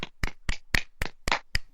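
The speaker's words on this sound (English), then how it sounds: "So if we put our mics down and give it a little clap." Two podcast hosts set their mics down and clap together, about seven crisp, close handclaps in an even rhythm, each sharp and isolated against near silence.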